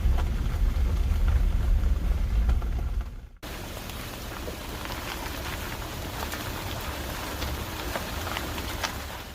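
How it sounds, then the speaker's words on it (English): Steady rain falls through a foggy mountain forest in the Great Smoky Mountains, a dense hiss of drops on the canopy with a brief dip partway through, then continuing evenly and close. "The fog and the trees and the rain."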